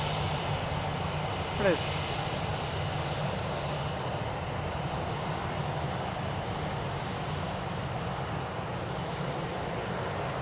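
An airplane engine drones steadily at Edmonton International Airport, a continuous broad roar at moderate distance that holds level throughout, with a brief spoken remark near the start.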